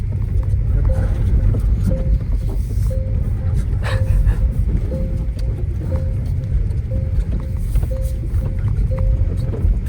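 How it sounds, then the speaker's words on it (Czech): A Tesla driven across a small gravel lot gives a continuous loud low rumble that stays steady, with a faint repeating tone above it and no talk. "A slyšíš ten zvuk toho motoru?"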